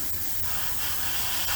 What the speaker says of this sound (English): we're spraying at our typical 12 to 15 psi, and I'm just going to start building up color.